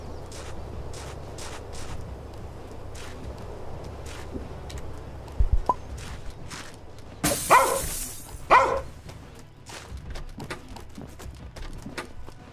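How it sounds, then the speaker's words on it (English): A corgi in the Thief Simulator 2 video game gives a few scattered barks over a quiet game background with footstep-like ticks, the barks short and spaced apart rather than continuous. "Dog! Go away!"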